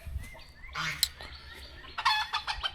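Chickens clucking and squawking nearby in short bursts, with faint background noise between calls.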